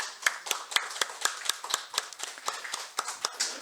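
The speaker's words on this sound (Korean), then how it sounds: "우리 격려 박수 하겠습니다." A church congregation at a Sunday morning service claps in encouragement, sharp distinct claps in a fairly regular rhythm, moderately close, from a small group with individual hand strikes clearly audible.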